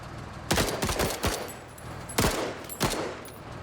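Rapid bursts of rifle fire from a marksman rifle in the video game Menace, several sharp cracks in quick clusters separated by short gaps, loud over steady background ambience.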